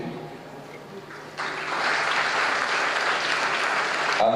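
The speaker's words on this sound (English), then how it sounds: "Round of applause for Chinedu, please." Applause for the best awardee at a presidential NYSC honours award ceremony; a quieter patter swells at about 1.4 seconds into steady, full clapping from a large audience that holds to the end.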